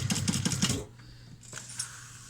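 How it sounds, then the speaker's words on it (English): A sewing machine runs in a quick burst of rapid, rhythmic stitching, then stops, leaving a low hum and a few faint clicks. "just run a stitch across it a couple times to secure it"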